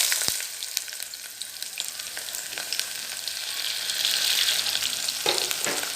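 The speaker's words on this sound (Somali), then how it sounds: "basasha waxa la rabaa inay karkarto" Chopped onions fry in oil for a macaroni pasta dish, a steady broadband sizzle with crackles and small pops, fairly close and loud, swelling slightly toward the end with no talking.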